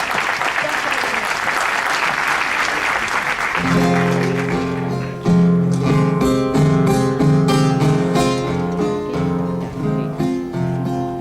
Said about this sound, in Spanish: Quiero pedir un gran aplauso para mi querido colega Alfredo Arévalo